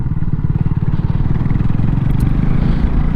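A Honda CB250RS motorcycle at steady running speed, a loud close low engine throb with wind rumble, heard from the rider's position.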